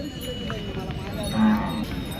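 A single low moo rises briefly from bullocks at a Saturday bull market in Pebbair, amid murmuring voices and a steady background hum.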